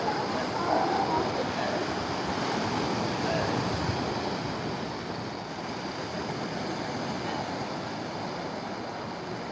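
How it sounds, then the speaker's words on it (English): Ocean surf breaks on a beach at La Jolla as a steady, broad wash of crashing water mixed with wind noise. It holds constant throughout and eases slightly toward the end. "there's constant sound of the waves"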